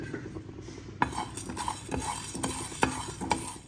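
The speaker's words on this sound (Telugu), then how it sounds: "అండ్ ఒక 1/2 స్పూన్ వరకు జీలకర్ర యాడ్ చేసుకొని దీన్ని కూడా మనము డ్రై రోస్ట్ చేసుకోవాలి." Coriander seeds and cumin dry roasting in a pan, stirred with a spoon that scrapes and clinks against the metal in irregular strokes over a faint crackle, close up and without speech.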